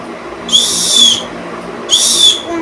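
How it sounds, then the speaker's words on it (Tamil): Cheap toy whistle from a small gift box, blown twice in short shrill bursts about a second apart, loud and close. "விசில் கிடச்சிருக்கு."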